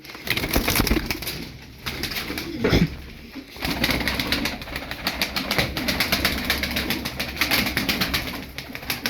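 Many pigeons, a flock of thirteen high-flying tumbler pigeons, coo and murmur together in a busy, continuous chorus, with occasional wing flutters and a steady low rumble beneath.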